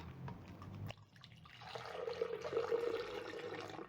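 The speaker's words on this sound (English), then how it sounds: "So I'm going to get started by adding in my milk." Milk poured into a blender jug for a peanut butter, oat and banana smoothie, a steady liquid stream that starts after a short pause and runs on for a few seconds at close range with no talk.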